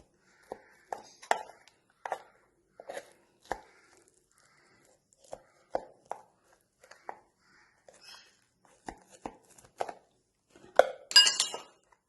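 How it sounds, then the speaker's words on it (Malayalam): A knife cuts a tray of baked nut bars into pieces, giving a series of faint, sharp taps and clinks against the pan at an irregular, unhurried pace, with a brief scraping burst near the end. "ഇതേപോലെ ഒന്ന് കട്ട് ചെയ്ത് കൊടുക്കാം"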